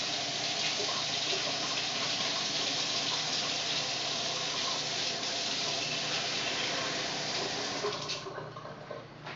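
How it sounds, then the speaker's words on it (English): Lukewarm water pours steadily into bread dough in a home kitchen, giving a continuous, fairly loud rushing stream that thins out near the end. "You don't want to add hot water, but you want to add some lukewarm water, and you just put that in there."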